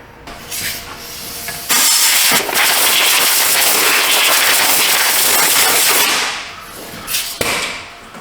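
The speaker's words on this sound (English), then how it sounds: "I wanna get up here with the blow nozzle, give it another little blast here by the tank" Compressed-air blow nozzle blasting near the fuel tank filler neck of a 2019 Kia Optima, a loud, close, continuous hiss lasting several seconds that fades out, with a short sharp knock near the end.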